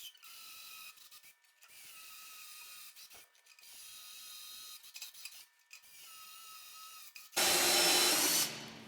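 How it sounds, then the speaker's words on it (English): A power drill boring holes in wood through a drill guide whines in short on-and-off bursts, then bites in with a loud, rough grinding roar for about a second near the end. "when you drill these holes with this guide in place, you really just want to drill a couple inches"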